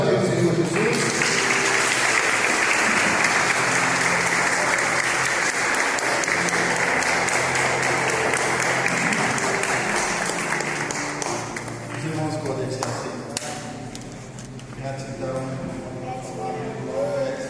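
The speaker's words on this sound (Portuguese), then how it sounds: "Você pode aplaudir o Senhor Jesus?" A church congregation claps for Jesus during an Easter service, dense sustained applause filling the room, steady and loud before easing slightly toward the end.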